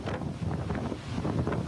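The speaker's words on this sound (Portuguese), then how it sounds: "dá para ouvir o barulho do vento" Strong hurricane wind from Hurricane Irma in Florida, with water spraying across a street: rough, gusty roar buffeting the microphone in a short, continuous burst, with no voices.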